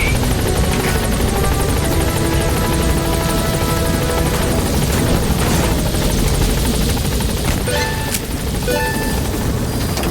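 Helicopter arriving at a landing zone in Metal Gear Solid V, rotor and engine noise loud and steady throughout with a few sharp game effects near the end.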